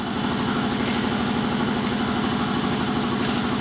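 An air compressor runs steadily in an auto repair shop, a constant low mechanical drone with a rapid pulsing chug, close and loud throughout with no talking.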